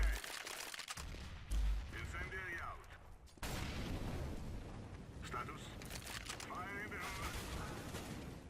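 A grenade blast in CS:GO on the Dust II map, with sharp bursts of in-game gunfire and booms rising under steady talk and game noise.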